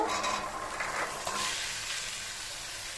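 Boiled peas and fried potatoes tip into hot spices in a pan and are stirred, giving a soft, faint sizzle with light scraping and no speech.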